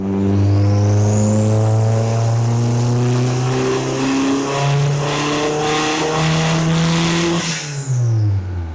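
A budget turbocharged Honda engine is held at high revs on a dyno, a loud sustained drone rising steadily in pitch with a whining turbo over it before cutting off sharply near the end.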